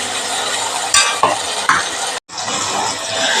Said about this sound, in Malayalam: അത് നമുക്ക് തക്കാളി ഇട്ട് കൊടുക്കാം. തക്കാളി ഒന്ന് വഴന്ന് വരട്ടെ.